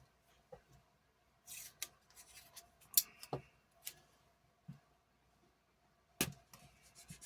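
Scissors trim a paper planner page, producing scattered crisp snips and rustles at close range in a quiet room, with several distinct cuts spaced irregularly across the stretch.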